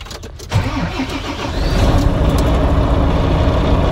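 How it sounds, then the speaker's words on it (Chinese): A Volvo tractor-truck head, rated to haul 50 tonnes, cranks over on a supercapacitor jump starter and catches, rising into a loud, steady diesel idle up close with no talking. "把我们这一台总重可以连接50吨的 Volvo 拖车头成功的启动了"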